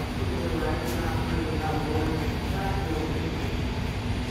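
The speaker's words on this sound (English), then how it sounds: "This is a yellow line train to Antioch." A BART yellow line train to Antioch gives a steady, loud interior rumble of rail transport, with broadband running noise and a low hum that carry continuously throughout.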